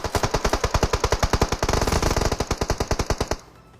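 Sustained automatic gunfire rattles during a fight in the mobile game PUBG Mobile, a fast, even stream of loud, close shots lasting a few seconds before cutting off abruptly.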